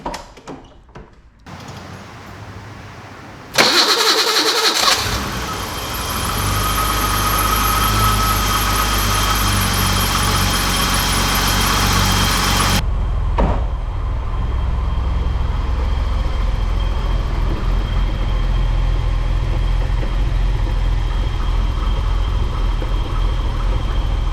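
A BMW E30 with an M30 inline-six, just repaired with a new distributor cap and rotor, cranks briefly, catches and then settles into a loud, steady idle that carries on close by for about twenty seconds.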